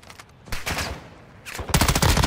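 Enemy gunfire in Call of Duty DMZ, loud and close: a few quick shots, a brief pause, then a dense rapid automatic burst at the end.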